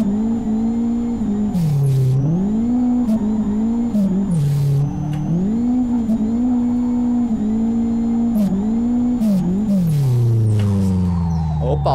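A turbocharged Chevy DL car in Live For Speed roars through a burnout, its engine held at high revs and repeatedly rising and dipping with the throttle, with tire squeal and sharp bursts throughout, loud and continuous.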